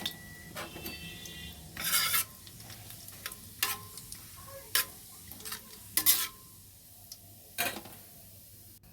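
Whole spices frying in a wok, a faint low sizzle broken by sharp, irregular scrapes and clinks of a spatula against the pan, close by with no voices.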